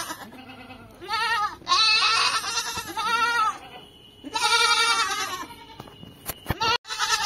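Goats that have just been released bleat loudly and close by, several long wavering calls in a row with short gaps between them.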